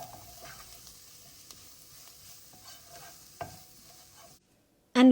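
Golden onions fry with ground cinnamon and are stirred through, making soft sizzling under irregular scrapes and clinks of the spoon against the pan, with a short quiet gap before a brief louder bump at the very end.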